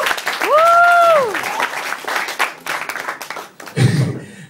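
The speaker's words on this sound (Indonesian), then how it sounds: "Tepuk tangan dulu." An audience bursts into applause, loud crowd clapping and cheering that swells and dips, with a rising whistle-like tone early and a speaker's voice breaking in near the end.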